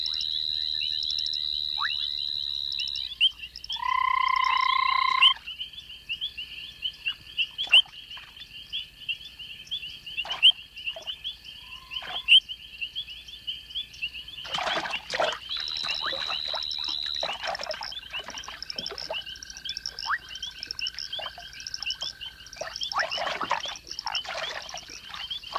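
Frogs calling at an African pond at night, with repeated tonal whistles and chirps, bursts of clicking and rasping croaks over a quiet nocturnal backdrop.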